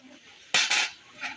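A spoon scrapes and clinks against a container as black salt is added to cooked red peas, one short metallic rattle of about half a second in a quiet kitchen.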